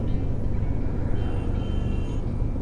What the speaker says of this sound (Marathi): थोडीशी ऑफरोडिंग करत आपण गाडी घालू.